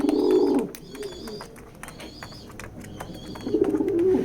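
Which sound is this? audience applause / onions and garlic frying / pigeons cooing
pigeons cooing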